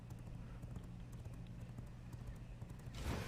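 A horse's hooves clip-clop at a steady trotting rhythm in the video game V Rising, faint and continuous over a low hum, ending in a brief louder rush.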